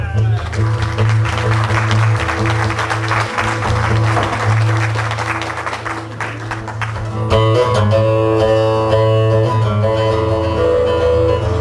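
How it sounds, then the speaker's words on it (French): Concert audience in Grenay applauds: dense clapping builds over steady background music for several seconds, then fades as the music carries on more prominently. "Vous pouvez les applaudir."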